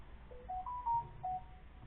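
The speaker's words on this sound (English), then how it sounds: "My phone just yelled at us." Phone alert tones, a quick run of four or five short, clear electronic beeps in a rising-falling pattern, close and tinny against faint room noise.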